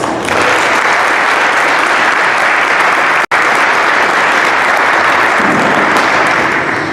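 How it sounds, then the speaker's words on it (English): Loud, dense audience applause for the winners at a 2021 high school academic awards night, continuous full-room clapping that holds steady for about seven seconds with a momentary dropout midway. "One more round of applause for all our winners."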